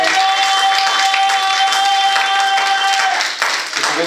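Church congregation at a French-language service applauding and cheering, dense sustained clapping with a held vocal tone over it, then a brief dip before the applause carries on.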